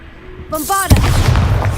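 Bombarda blasting spell cast in the Hogwarts Legacy video game: a brief magical chime rises, then a loud booming explosion bursts and rumbles on with crackling debris to the end.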